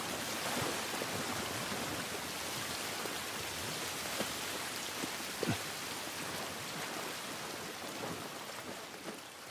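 Steady rain pours down outdoors in The Last of Us Part 1, a dense continuous hiss with scattered drips and a faint low rumble, no voices.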